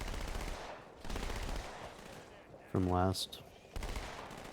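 A submachine gun fires in the Halo 2 video game in several rapid bursts, separated by gaps and mixed with a short tonal game sound. A voice speaks briefly over it.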